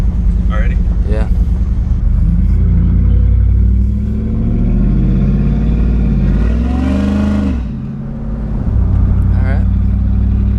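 A modified Ford Lightning pickup with freshly replaced spark plugs drives on a first short test drive, its engine droning and revving under the cabin while people talk over it, with a dip and rise in engine pitch.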